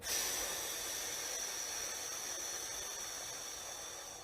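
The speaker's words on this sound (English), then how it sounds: "and like a 6 to 8 second out breath" A slow, long out-breath during a relaxation breathing exercise, heard as a steady airy hiss held for over four seconds and gently fading, close and alone.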